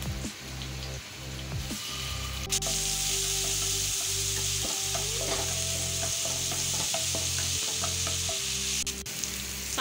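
Garlic-ginger paste sizzling in hot oil in a kadai, a loud steady broadband fry with bursts of crackle and occasional stirring knocks, no voices.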